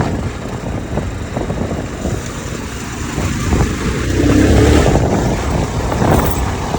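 A vehicle overtakes a state transport bus on a rural road. Steady road rumble and wind buffeting swell louder midway as it passes.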